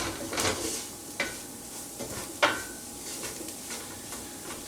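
A butter and flour roux coated over vegetables, for cream of broccoli soup, is stirred in a pan, giving a soft continuous sizzle broken by several sharp spoon scrapes and clinks against the metal.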